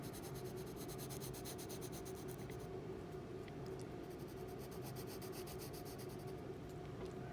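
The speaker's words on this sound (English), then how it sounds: "I'm going to take my patty paper and I'm going to trace it like so" Pencil tracing a figure on thin patty paper, a steady close scratchy rubbing that runs continuously, with short pauses and lighter strokes as the lead moves across the sheet.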